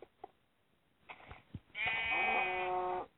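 A cow in the video game Minecraft gives one drawn-out moo lasting just over a second, preceded by a few faint clicks and soft thuds. The moo is close and moderately loud, with no talk.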